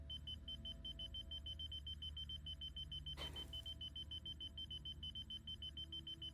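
Repeated electronic beeping from the video game Vampire: The Masquerade – Swansong, an evenly pulsing high alarm tone over a low hum, with a brief whooshing burst partway through and no talking.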